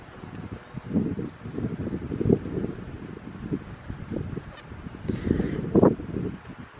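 Strong gusts of wind buffeting a microphone outdoors at night near a château at La Ferté-Vidame, a low rumbling roar rising and falling in uneven waves, with no voices.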